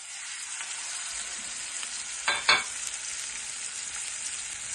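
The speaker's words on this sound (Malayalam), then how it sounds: "നമുക്ക് മീൻ അങ്ങോട്ട് പറക്കി വെക്കാം" Fish pieces fry for biryani in a small amount of hot oil, giving a steady, bright sizzle with two quick louder crackling bursts partway through, heard close up with no voices.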